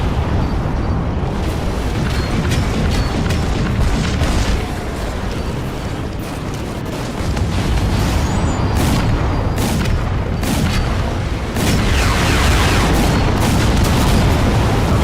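Missiles exploding in Crysis 2 Remastered, a dense and continuous barrage of loud booming blasts that rumble on without pause for the whole stretch.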